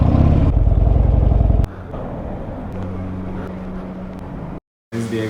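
A 2013 Harley-Davidson Dyna Classic motorcycle on a national highway township in the mountains, its engine rumbling loudly up close, dropping to a lower idle-like drone partway through before a brief cut and a return.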